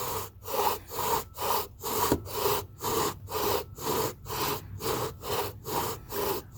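A bow drill spindle grinding steadily back and forth in a wooden fireboard notch, about two strokes per second, a close, raspy wood-on-wood friction sound repeating evenly with no voices.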